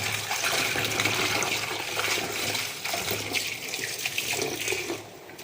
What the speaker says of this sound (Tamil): இது ஒரு குறைஞ்ச அஞ்சாறு வாட்டி நான் கழுவணும் ஏன்னா மண் நிறைய இருக்கும்